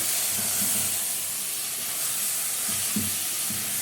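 Meat sizzles in a pot, a steady broad hiss with soft scraping knocks as it is stirred, close and continuous.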